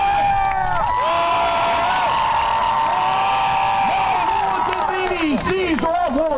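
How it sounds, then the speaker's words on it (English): A loud crowd of women cheers and whoops for Sir Andrew's jousting team at a medieval faire at Black Creek Village, a sustained roar with shrill shouts, whistle-like cries and a voice speaking over it. "Ladies, raise your voices for the team of Sir Andrew."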